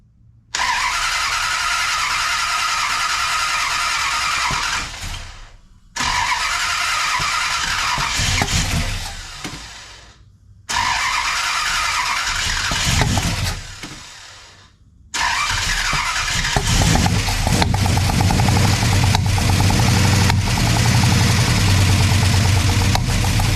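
A 440 V8 motorhome engine in a 1968 Dodge Charger with a struggling carburetor, loud and close, cranks and catches in three bursts separated by brief silences, then settles into a sustained rough running roar.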